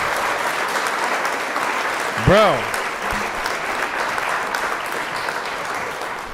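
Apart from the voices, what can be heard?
audience applause for Mark Cerny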